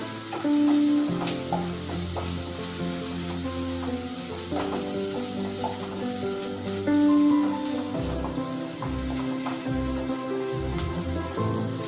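Spinach and potato fry in a pan with a continuous, even sizzle and occasional stirring, accompanied by music playing steadily alongside.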